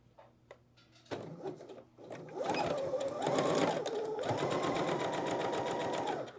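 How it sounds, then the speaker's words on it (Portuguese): A home sewing machine stitching a straight seam along the side of fabric, starting with a few short bursts and handling clicks, then settling into a steady rapid whirring run, close and moderately loud. "Vou passar uma costurinha bem na lateral"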